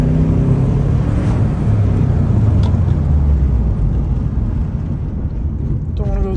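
A 2003 Subaru with a newly replaced throttle cable accelerates with a loud, steady engine roar heard from inside the car, lasting throughout.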